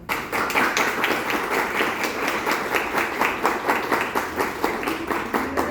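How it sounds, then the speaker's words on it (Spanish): Audience at a school event clapping for a doctor, brisk rhythmic handclaps with a few louder individual claps standing out, steady and fairly close for several seconds. "les pido un fuerte aplauso para el doctor"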